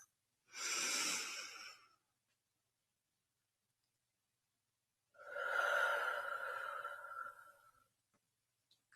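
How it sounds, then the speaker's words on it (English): Two slow, deep breaths come in and out through the nose, each lasting about one and a half to three seconds, close and soft, separated by silence. "Let's do our second deep breath right through the nose."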